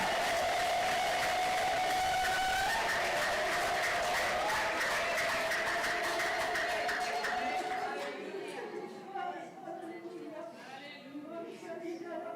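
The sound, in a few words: applause in church worship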